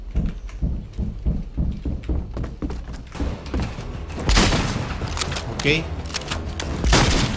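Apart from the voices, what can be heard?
shotgun gunfire in the video game Fortnite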